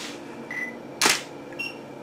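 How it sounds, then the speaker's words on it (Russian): A single sharp camera shutter click sounds during a stock photography shoot, loud and close against a quiet room, with a few faint electronic beeps around it. "давайте вот мы сейчас сделаем с вами такой снимок"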